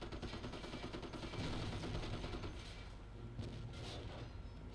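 Sustained game battle din as a Sherman tank destroys a German Panzer IV in Company of Heroes: dense, loud gunfire and booming explosions rolling continuously, with rattling machine-gun bursts layered throughout.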